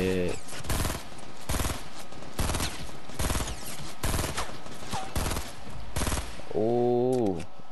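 Rapid bursts of rifle fire crack out in Fortnite gameplay, roughly eight loud sharp volleys spaced through several seconds, with a brief voice near the end.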